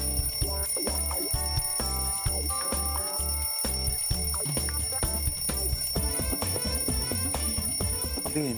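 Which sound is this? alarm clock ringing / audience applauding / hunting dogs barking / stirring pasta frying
alarm clock ringing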